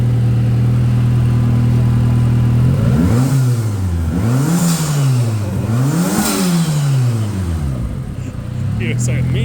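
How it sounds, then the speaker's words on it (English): A Suzuki Swift's engine idles with a steady low drone, then revs up and falls back in several rising and falling sweeps, the blips coming close together before it settles toward idle again. "Give it a rev."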